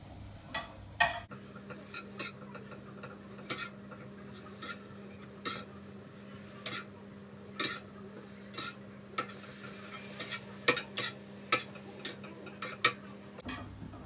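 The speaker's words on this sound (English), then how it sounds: "So you want to fry this for around 6 to 8 minutes, or until your mince is all brown." Mince browning in a pan, stirred with a utensil that scrapes and taps the pan at a steady, regular pace over a faint continuous sizzle, close and moderately quiet.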